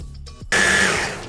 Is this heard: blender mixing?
yes